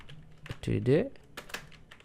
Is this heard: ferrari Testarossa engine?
no